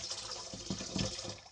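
Water runs and splashes steadily from a tap while a giant squid is washed for adobo sa gata, close by with soft sloshing bumps from handling and no speech.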